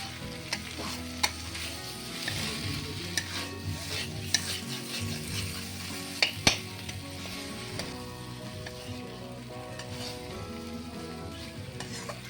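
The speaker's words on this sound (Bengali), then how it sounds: "আঁচটা এবার একটু জোরে করে দেবো। করে দিয়ে আমি এটা খালি অনবরত নেড়ে নেড়ে ভাজতে থাকবো।" Cauliflower and potato with poppy-seed posto fry over raised heat under constant stirring, giving a soft, continuous sizzle with scattered sharp spatula clicks and scrapes against the pan.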